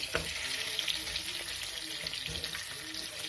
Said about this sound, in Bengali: এবার লেগ পিসগুলো দিয়ে নেব। এগুলো আমরা এবার টাইম ধরে ভাজতে থাকবো।